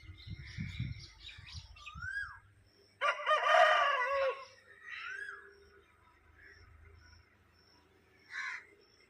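A rooster crows loudly once, a long rising-and-falling call, with other birds chirping around it and a brief low rumble at the start.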